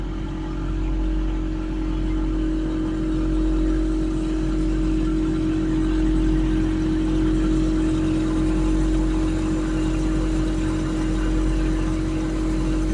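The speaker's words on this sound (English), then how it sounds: "That noise you hear is a pump." A steady water pump at a campground in Wellington National Park, Western Australia, drones loudly and continuously, with a constant low hum and whirring tone that never changes.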